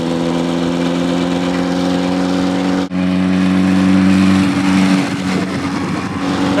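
Homemade redneck go-kart engine revving loudly and steadily, a short dip as the rider shifts gears, then climbing again with grinding gearbox noise under the droning motor.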